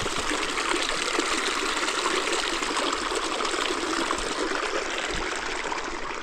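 Muddy river water running out after Hurricane Helene, a steady close rushing trickle that stays loud throughout with no talk.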